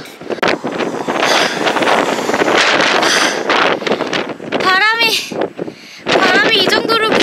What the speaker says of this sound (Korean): 여기가 바람이 진짜 세네요.